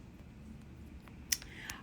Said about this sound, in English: sorry, I'm typing something on the screen.